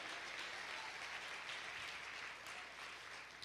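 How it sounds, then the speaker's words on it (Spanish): A church congregation applauds during a Spanish-language sermon, a steady dense wash of clapping that fills the whole stretch at even loudness with no voices over it. "Dale un aplauso al Señor"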